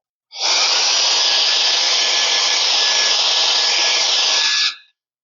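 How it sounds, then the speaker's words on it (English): A Wolfbox three-speed digital air duster blows a strong, steady rushing jet of air, close and loud, starting abruptly and running for about four seconds before winding down. "This is the air duster from Wolfbox, a digital air duster, 3 speeds."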